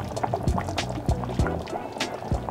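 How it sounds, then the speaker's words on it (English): Wine is poured into a stew pot for Cuban oxtail stew, with a splashing, gurgling liquid sound and a few thumps from the pot, heard close. "And then we are gonna add our wine."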